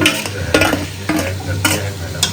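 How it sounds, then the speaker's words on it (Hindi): Chicken frying in masala sizzles loudly in a pan, broken by repeated rhythmic scraping strokes of a stirring spoon about every half second. "यहाँ जो है हमारे मसाले की जो है ये चिकन फ्राई हो रहा है।"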